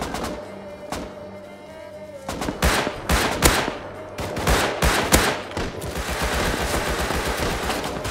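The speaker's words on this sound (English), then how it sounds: "I'm getting shot in the back." Rapid automatic gunfire from a multiplayer survival shooter with AK rifles, bursts of sharp shots growing denser and louder, then a sustained rattle of close, continuous fire near the end.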